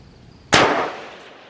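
A single rifle round strikes an 8-inch circular steel plate 400 yards away. The sharp crack blends into a bright metallic ring that decays over about a second, heard at a distance.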